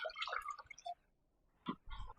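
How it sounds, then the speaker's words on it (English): Water pours into a small electric pressure cooker, coming in short close splashing and dripping bursts separated by a brief quiet gap. "Okay, we're going to put in 2 cups of water."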